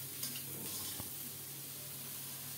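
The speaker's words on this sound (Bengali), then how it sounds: "এখন দেব পরিষ্কার করে কেটে ধুয়ে রাখা বেগুন। কিছুক্ষণ কষিয়ে নিয়ে স্বাদমতো লবণ দিলাম" Eggplant sautés with sliced green chillies in a pan, a soft, even sizzle running throughout with one faint utensil tap partway through.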